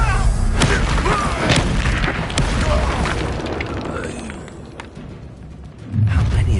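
Spell effects cast in the Hogwarts Legacy video game: repeated booming magical bursts and thuds in quick succession, loud and close, with a spoken voice over the action.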